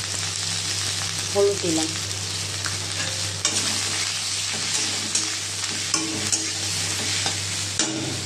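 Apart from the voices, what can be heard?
snake gourd frying with five-spice and dried chillies in a pan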